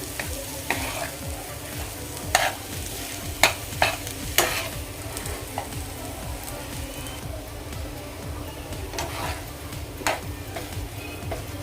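Potato sabzi being stirred and mixed in a pan, a continuous low sizzle broken by a handful of sharp spoon clinks and scrapes, close and moderately loud, with no talking.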